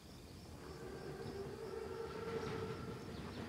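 An armored train in Call of Duty WWII rolls past in a steady, mid-distance rumble with a faint metallic whine on top, unbroken and without voices.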